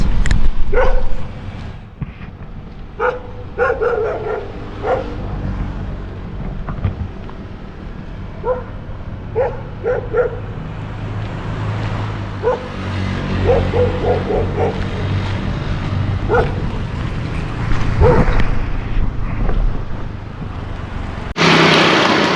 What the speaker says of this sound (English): you can probably now hear a dog. Got dogs